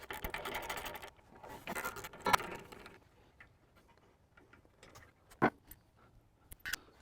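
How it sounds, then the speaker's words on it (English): A 3/8 ratchet with a 3/8 socket undoes the carburetor bolts on a garden tiller motor. Bursts of quick, close clicking ratchet strokes come in short runs separated by quieter pauses and a few sharp metallic knocks. "So we take a 3/8 ratchet, 3/8 socket, and go ahead and undo the carburetor from the motor."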